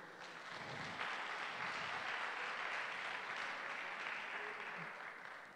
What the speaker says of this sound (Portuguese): Isso aqui é o Diogo. Dá um aplauso para a vida do Diogo.